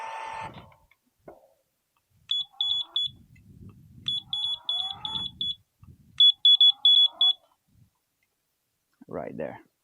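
A Ghost Controls gate opener control unit emits bursts of rapid high electronic beeps in three separate clusters, close and clear, with handling clicks and someone speaking briefly between them.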